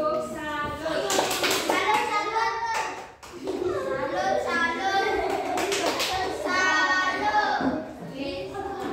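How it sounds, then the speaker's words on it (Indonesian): Classroom children give a group a round of applause, bursts of clapping mixed with lively kids' voices and a teacher speaking over them, close and busy. "tepuk salut untuk kelompok 1"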